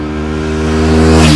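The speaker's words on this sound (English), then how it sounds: "you can just downshift, and most of the braking part automatically done by the engine" A TVS Apache RTR 310 motorcycle engine drones loudly and steadily at close range under engine braking while downshifting, its pitch holding then cutting off abruptly after about a second and a half.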